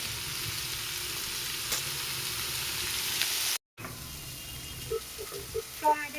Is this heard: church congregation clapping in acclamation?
no